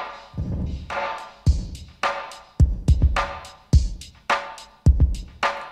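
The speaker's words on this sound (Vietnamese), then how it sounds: "Và đây là âm thanh chỉ có reverb." Reverb-only wet signal from a Klanghelm plugin, a run of sharp percussive hits every half second or so, each followed by a washy decaying tail, close and clear with no voices.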